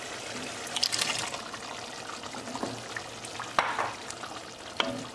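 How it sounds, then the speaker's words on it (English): Garbanzo beans and black beans tipped into a pot of boiling water, with splashy pours, trickles and a few sharp clinks against the pot over the steady bubbling. "Now we're going to add garbanzos and black beans."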